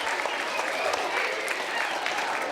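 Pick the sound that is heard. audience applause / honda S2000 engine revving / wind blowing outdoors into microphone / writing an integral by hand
audience applause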